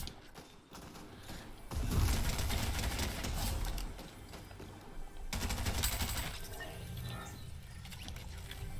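Shotgun fire in the Fortnite video game comes as quiet, sharp blasts mixed with clattering game effects and mechanical noise, fairly faint overall.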